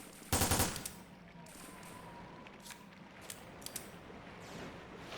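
Semi-auto handgun fire in the PS2 survival-horror game Resident Evil: Dead Aim: a quick loud cluster of shots near the start, then a few fainter clicks and pops over low ambient rumble.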